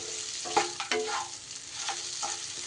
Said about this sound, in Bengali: চিনিও খুব ভালো করে মিশিয়ে দিয়ে দেখুন